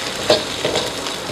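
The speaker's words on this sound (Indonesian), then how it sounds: "Oseng-oseng terus" Indomie goreng noodles being stir-fried in a pan, with a short, loud close sizzle and a scraping stir sound.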